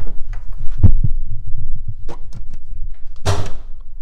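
Driver's side door of a Lexus CT200h hybrid being handled and opened: low thumps and clicks, then a loud latch clunk near the end, recorded close up.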